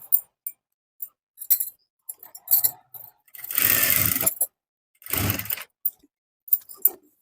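Bursts of a sewing machine stitching a blouse, two longer runs of rapid mechanical whirring among short clicks and taps of handling, close and clear with silent gaps between.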